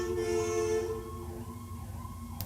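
An emergency vehicle siren drifts past a corner house, a steady sustained wail with a falling pitch sweep, moderately loud and somewhat distant, with no voices.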